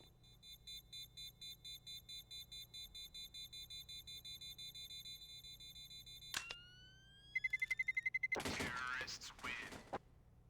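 A planted bomb ticks in rapid beeps in Counter-Strike on the Mirage map, then a sharp tone rises and the bomb detonates in a loud, short blast.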